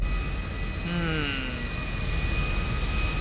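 A jet plane's engine in the GTA 5 video game gives a steady, loud roar with a rising whine that sweeps upward partway through.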